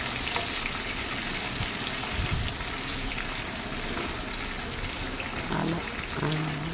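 Mango pieces frying briefly in oil in a pan for a mango pickle, a steady broadband sizzle running throughout with faint scattered crackles, no talking.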